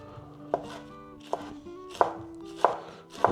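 A knife finely chops cabbage on a board, five sharp, separate chops spaced about 0.7 seconds apart, close and clear, with a faint background hum and no talking.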